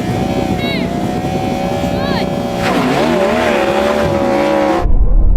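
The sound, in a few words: Ferrari SF90 accelerating in drag race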